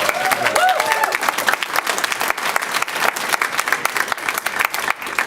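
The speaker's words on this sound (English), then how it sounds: "I thought you said not to clap" An audience claps steadily through the whole stretch at a school board meeting, dense, loud and close, with a few voices rising briefly near the start.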